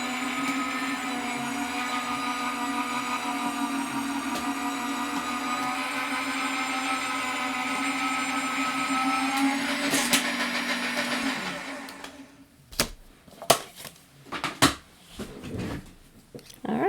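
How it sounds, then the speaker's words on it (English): An electric die cutting machine running a card through, a steady motorized hum with a droning tone that stops after about twelve seconds, followed by a few sharp handling clunks and rustles. "This should be the last time through the die machine."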